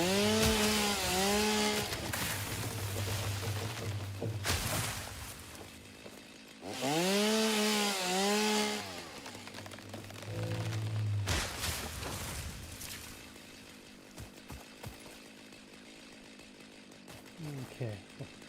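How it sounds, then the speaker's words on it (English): Chainsaw cutting in the factory-building video game Satisfactory, loud revving bursts that rise and fall in pitch, three main runs with quieter idling and rough chopping between them, close and dominant. "It's a powerful chainsaw"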